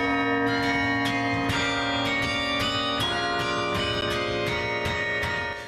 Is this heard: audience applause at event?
no